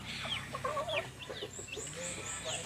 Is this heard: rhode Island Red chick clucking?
yes